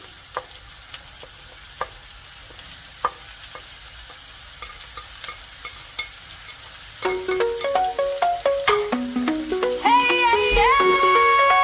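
Tricolor vegetables and onion go into a hot pan for fried rice, giving a spatula scraping in sparse scattered strokes at first, then a busier rhythm of stirring over a rising, steady sizzle.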